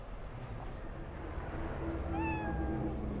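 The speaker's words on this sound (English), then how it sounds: "Yeah, I can pet a cat." A cat in the video game Cyberpunk 2077 gives a single clear, rising meow near the end, over a low, steady background murmur.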